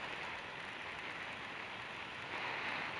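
Steady rain falling during a motorcycle ride, a dense, even hiss of drops with wind and road noise blended in, continuous and fairly loud throughout with no talking.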